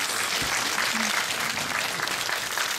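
Audience applause at a film screening Q&A, a dense, steady wash of clapping from a crowd that continues throughout at moderate loudness.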